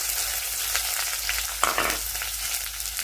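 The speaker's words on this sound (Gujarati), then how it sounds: "હવે નાખી દઈએ ડુંગળી." Onions dropped into hot oil with curd and curry leaves in a pan, giving a loud, steady sizzle close by with a sharp burst of spattering midway and light stirring throughout.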